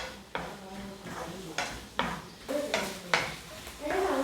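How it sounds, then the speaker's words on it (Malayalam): Two medium onions, sliced lengthwise for a vegetable salna, sizzle gently in a pan. A spoon stirs them in repeated scraping strokes roughly every half second over a low, steady hiss. "ഇനി ഇതിലേക്ക് നമുക്ക് സവാള ആഡ് ചെയ്ത് കൊടുക്കാം"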